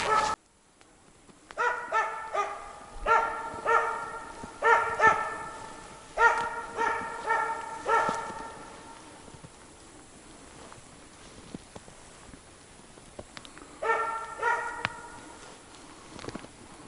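A dog barking hesitantly in a forest: short clusters of barks, moderately close, separated by quiet gaps, with a final group of barks after a long pause.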